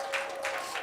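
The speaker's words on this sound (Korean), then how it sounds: "우리 큰 박수 부탁드릴게요." Church congregation applauding for a woman pastor at a Sunday service, a short burst of clapping heard at moderate distance in a reverberant hall.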